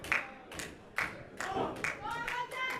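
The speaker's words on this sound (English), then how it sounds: "This crowd trying to get the Audacity back into the match here." Wrestling crowd clapping in a steady rhythmic beat to rally a tag team back into the match, sharp hand claps repeating about twice a second with crowd noise and a voice mixed underneath.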